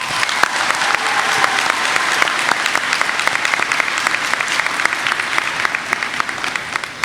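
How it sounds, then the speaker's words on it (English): Loud, sustained crowd applause for graduating seniors at a high school graduation ceremony, many hands clapping in a dense, even wash with sharp individual claps standing out throughout. "I humbly ask that you all join me in a round of applause for every senior graduating today."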